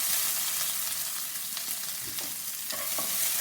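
Onion pieces frying in oil for Tamil Nadu style vegetable sambar, a dense steady sizzle with a few stirring scrapes, close and continuous.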